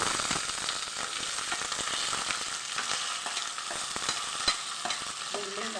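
Onions frying in a pan for aloo gobi, a steady hiss and sizzle with stirring scrapes throughout, close and continuous, no talk.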